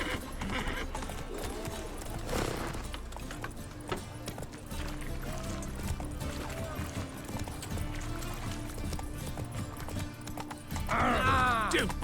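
Horse hooves clip-clop steadily in The Witcher 3 under game music and scattered speech, and a horse whinnies loudly near the end.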